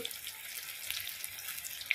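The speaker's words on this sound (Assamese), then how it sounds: "আৰু মই এইখিনি তেলতে একেলগে পাপৰখিনিও ভাজি ল'ম" Papad fries in hot oil alongside eggplant in a home kitchen, a steady, fine hiss and crackle of bubbling oil heard close and fairly faint, without talk.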